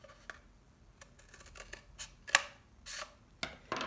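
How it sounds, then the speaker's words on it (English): Scissors snip a slice into a recycled-material rocket ship wing, a few crisp close cuts and rustles spaced irregularly in a quiet room, with one sharper snip near the middle. "I cut a slice with my scissors."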